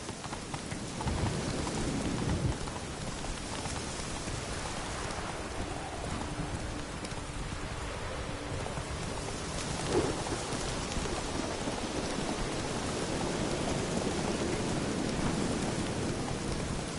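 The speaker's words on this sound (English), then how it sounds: "Storm, damn it." Steady rain and rolling thunder from a storm in the video game Witcher 3: Blood and Wine, a constant wash of rainfall with low rumbles swelling throughout and a brief sharp crack near the middle.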